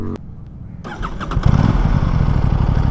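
The inline two-cylinder engine of an Aprilia RS457 motorcycle catches after a brief click, then rises into a loud, close, throbbing rev that holds steady to the end.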